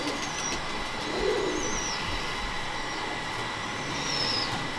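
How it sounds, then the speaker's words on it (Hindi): Low cooing of a large Imamdeen breed pigeon, soft and steady against constant background noise with faint bird chirps above, no speech. "ये भजन इमामदीन कबूतर है, इमामदीन ब्रीड दिखा रहे हैं इस वक्त"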